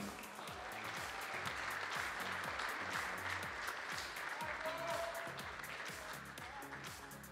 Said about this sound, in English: Round of applause, please, for Jolin Beer.